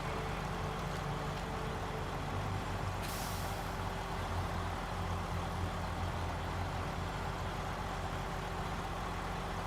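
A Kenworth truck in a truck-driving game releases a brief hiss of its handbrake over a steady, loud idling engine drone that continues throughout.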